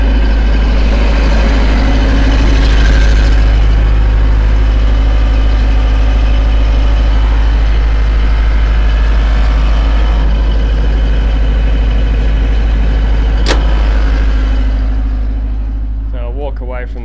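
A Chinese-made imported generator powering an off-grid system at an excavation equipment site runs with a steady, loud low engine drone throughout, idling evenly with a brief sharp click near the end.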